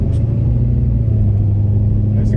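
Cab interior of a Ford pickup with a 6.7 Powerstroke diesel and no muffler at light throttle: a steady, loud low-pitched engine and exhaust drone with a constant humming tone that holds even throughout.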